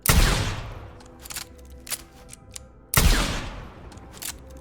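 Two heavy gunshot blasts from the ZHI-X3 Decimator, a modded weapon fired indoors in Starfield, each a loud booming crack with a long decaying tail, separated by about three seconds, with faint clicks and clatter in between.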